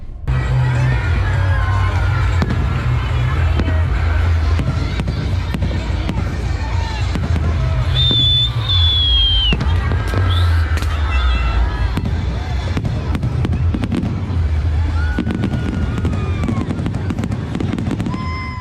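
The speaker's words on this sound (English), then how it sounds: "Seeing all the beautiful fireworks." New Year's fireworks burst over the San Antonio Riverwalk amid a dense, loud crowd, with constant crackling and booms, shouting and children's voices throughout, and scattered whistles rising above the din.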